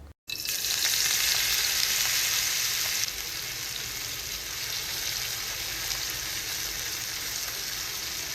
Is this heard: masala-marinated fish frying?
yes